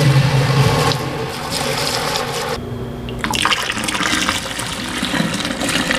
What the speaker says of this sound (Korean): 여기 솥에 먼저 물을 부을 거고요